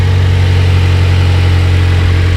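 Toyota Corolla engine idling just after new spark plugs were installed, a loud, steady, even hum with a smooth low throb and no speech over it.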